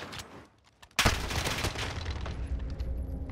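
Mini Uzi fire in Modern Warfare rips out in a loud, rapid automatic burst after a quiet moment, a dense rattle of shots that carries on close and continuous.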